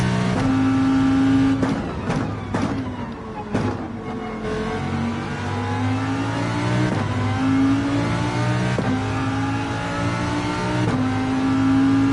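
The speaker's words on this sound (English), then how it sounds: "I think I've been over-revving the Lamborghini as well." A Lamborghini engine in Gran Turismo 7 revs hard during a race lap, climbing and dropping through gear shifts in a loud, continuous drone with sharp breaks between gears.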